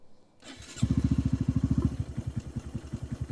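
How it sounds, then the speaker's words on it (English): A Honda Grom 125cc motorcycle engine cranks and fires, then settles into a loud, close, rapid pulsing idle that runs slightly rough and uneven. "But this bike runs very healthy. Let's start her up."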